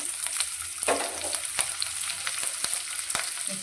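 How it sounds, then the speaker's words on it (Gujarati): Cumin seeds, a dried red chili, a small bay leaf and two green chilies sizzle in hot oil, a close, crackling fry with sharp pops scattered through a continuous hiss. "આપણું ગરમ થઈ ગયું છે તો તેમાં અડધી ચમચી જેટલું આપણે જીરું એડ કરીશું સાથે આપણે એક સૂકું લાલ મરચું અને એક તમાલપત્ર નાનું લીધું છે"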